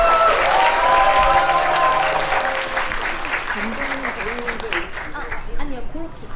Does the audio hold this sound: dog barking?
no